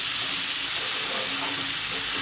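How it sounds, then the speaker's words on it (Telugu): Cauliflower and potato curry being stirred in a pan gives off a loud, dense, steady sizzling hiss close up, with no voices. "బాగా మిక్స్ చేస్తున్నాము"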